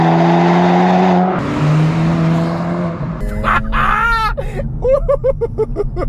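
A 2024 Acura Integra Type S launches hard from a standstill, its engine droning loudly, then climbing through rapid revs with sharp gear shifts as it accelerates away, close and powerful.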